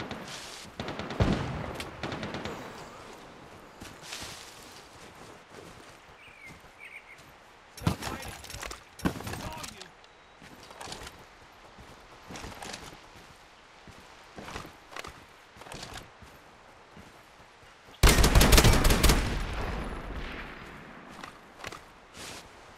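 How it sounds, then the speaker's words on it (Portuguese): Gunfire exchanged in the video game Lost Light: scattered bursts of shots, some sharp and loud, others more distant, with intermittent footsteps and quieter gaps between volleys. "Estão trocando tiro federal ali"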